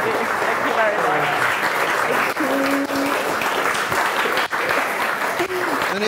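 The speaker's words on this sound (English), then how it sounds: "So a big round of applause." Loud, sustained applause from a crowd after a lecture by violinist Tasmin Little at St Mary's Perivale fills the whole stretch, dense and steady with a few whoops and voices mixed in.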